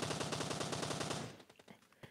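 An M7 rifle in a video game scrim fires a rapid, steady automatic burst that cuts off after about a second, leaving a few scattered faint clicks and echoes, fairly quiet overall.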